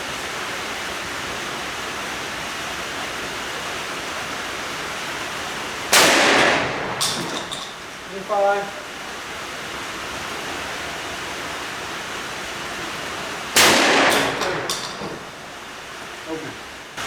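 Two loud shotgun blasts fired under a carport with a metal tin roof, each a sharp close crack followed by a ringing decay, spaced several seconds apart over steady background hiss.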